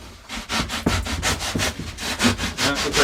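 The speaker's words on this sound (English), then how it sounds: "Now what I'm going to do is cut around the edge here. I got a serrated knife and a drywall knife." Serrated knife sawing through cured spray foam around the edge of a 5-gallon bucket: steady back-and-forth rasping strokes in a regular rhythm, loud and close, with no talk.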